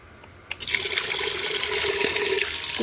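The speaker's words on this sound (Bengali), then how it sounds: "চালগুলো আগে ভালো করে ধুয়ে নেব, যতক্ষণ না জল পরিষ্কার হয় আমি চাল ততক্ষণই ধুই।" Store-bought rice being washed in water in a home kitchen, a steady run of water splashing and trickling that starts abruptly and continues close by with no talk.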